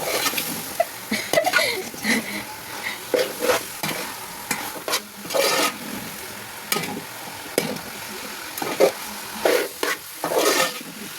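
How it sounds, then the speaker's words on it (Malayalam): A spoon stirs chicken with masala, tomatoes and ginger-garlic paste in a sizzling pan for chicken curry, giving repeated scraping strokes in an uneven rhythm over a steady frying hiss, close and fairly loud. "ഇൻഗ്രീഡിയൻസ് മസാല ചേർത്ത് ചിക്കൻ ഇട്ട് ഇളക്കുക"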